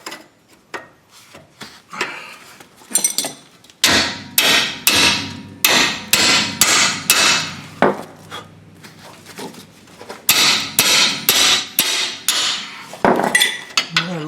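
A hammer striking the rear brake parts of a 2005 Chevy Trailblazer repeatedly, loud sharp ringing blows in bursts with short pauses, some rapid series of hits, close by.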